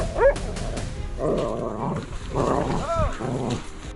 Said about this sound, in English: The sound of barking echoed from deep within the woods